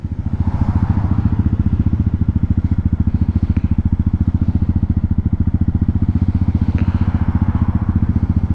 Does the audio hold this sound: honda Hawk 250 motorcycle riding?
yes